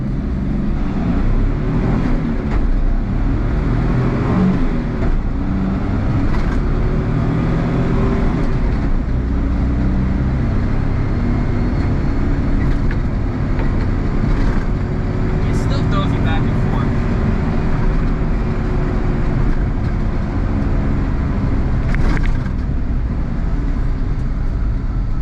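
A Suzuki Jimny JA11 pulls from a standstill in first gear on city streets, its engine droning loud and close inside the cabin with a rising pitch as it accelerates, and a voice talks over it.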